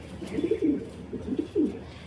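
A pair of domestic pigeons, a male and a female, give soft, low cooing calls in a few rolling phrases, close and fairly quiet against a faint background hum.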